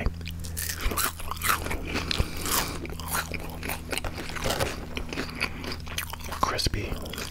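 Crispy round Burger King hash browns are bitten and chewed close to the microphone, with repeated loud crunches and soft wet chewing, while a voice whispers softly throughout.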